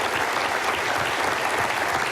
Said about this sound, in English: we can clap for Byron